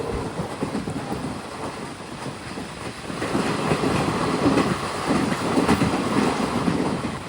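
The Kanchanjungha Express rolls along from Badarpur toward Agartala with a dense, continuous rumble and rhythmic clickety-clack of wheels on rail joints, growing louder midway as heard from inside a sleeper coach.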